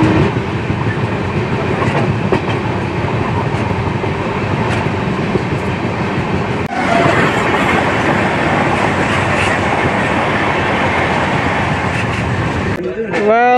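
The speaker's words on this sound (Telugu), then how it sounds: "మొత్తం ఓల్డ్ ICF బ్లూ కోచెస్ అయితే నడుస్తుంది" A train of old ICF blue coaches rolls along on a long-distance special run, a loud steady rumble with rattling wheels that shifts character midway and ends with a short squeal.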